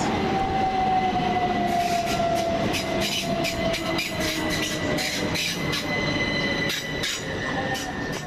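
Class 377 electric trains move through East Croydon station, a loud continuous rumble of rolling stock with high wheel squeal and rhythmic clicks of wheels over rail joints, close and sustained.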